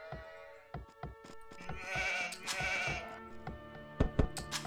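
Sheep bleating in Age of Empires 2 HD, a couple of wavering game bleats over scattered short thunks and clicks from the match, fairly quiet with no talking.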